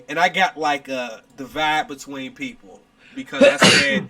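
A sneeze bursts out near the end after a stretch of close conversational talk on a live gaming show, loud and sharp over the last half second.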